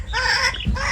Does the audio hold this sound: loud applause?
no